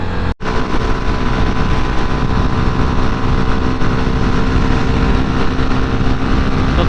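CF Moto 300 NK motorcycle on the move, a loud steady engine drone mixed with heavy wind rush, with a brief dropout near the start and no talking.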